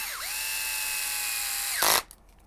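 A power drill drives 12 mm screws into the transfer case of an HPI Venture SBK build, giving one steady high whine that rises, holds, then winds down and ends in a brief harsh burst.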